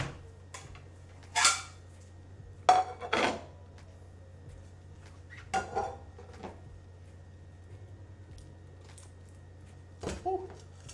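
Garlic bread is set down on an oversized plate in a home kitchen, giving a few sharp, close clinks and knocks spread out in quiet, with a faint steady hum underneath.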